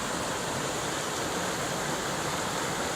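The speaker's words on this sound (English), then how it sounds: "the creek keeps flowing through this whole area" A creek rushes over river rocks on a hike to Charco Prieto waterfall in Bayamón, Puerto Rico, a steady, loud, close wash of flowing water with no voices.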